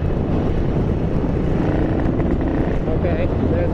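A Ducati 900SS bevel-drive motorcycle held at full throttle roars loud and steady, its engine note stumbling with a lean, fuel-starved hesitation amid heavy wind rush.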